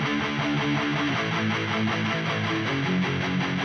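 Electric rhythm guitar with a distorted amp-simulator preset, a dense, continuous chugging texture playing steady chords throughout, loud and close with no talk, produced for a pop-punk track.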